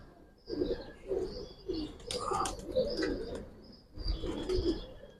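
Bagha and Silver Giribaj pigeons coo in repeated low rolling phrases, close and clear, with brief sharper calls and short pauses between bursts.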